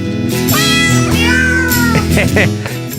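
Cats meowing in a novelty recording of the carol Silent Night, the meows pitched into a melody over a steady musical backing, loud and continuous throughout.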